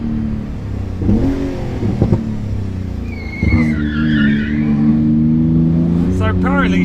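A Porsche 911 GT2 RS drifting on a road: engine revs surge while tyres squeal and skid in wavering bursts, loud and close, building toward the end.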